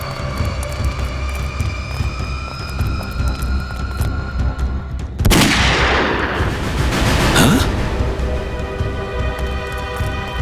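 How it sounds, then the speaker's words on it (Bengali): Gunfire bursts out in a crime drama scene: a sudden loud crack after a quiet stretch, followed by a second sharp report, both with a brief crackling tail over low background rumble. "গুলি চলার শব্দ।"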